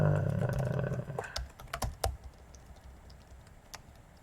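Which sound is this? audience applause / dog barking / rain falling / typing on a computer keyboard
typing on a computer keyboard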